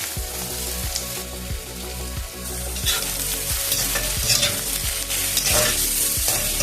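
Sliced onion sizzles loudly in coconut oil in an iron pan, a bright crackling hiss close by, with a steady rhythm of scraping stirs and brief surges of spitting oil.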